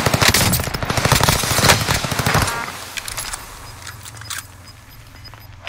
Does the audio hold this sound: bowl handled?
no